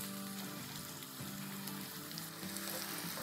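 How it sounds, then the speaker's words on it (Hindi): Chopped onions sizzle steadily in a pan as they fry toward light brown for haleem, with a soft, continuous crackle and faint clinks of stirring, heard close and alone. "चलिए इसको फ्राई कर लेते हैं, बहुत ब्राउन नहीं करेंगे, थोड़ा सा इसको बादामी करेंगे।"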